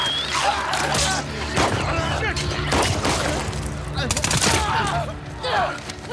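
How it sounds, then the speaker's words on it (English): Assault rifle gunfire in The Last of Us Part 2, several sharp shots and short bursts cracking out close and loud, spaced across the stretch amid game noise and talk. "Assault rifle?"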